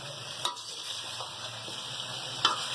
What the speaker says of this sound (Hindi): इसको मैं सब्जी को 5 मिनट और भूनूंगी